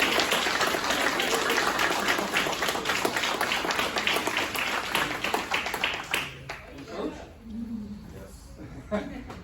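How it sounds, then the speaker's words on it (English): A room claps for a team of young women athletes at a Rosamond community meeting, a thick, sustained round of applause that cuts off after about six seconds, leaving scattered claps and nearby voices. "Can we have a round of applause for you?"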